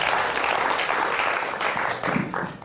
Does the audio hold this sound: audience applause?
yes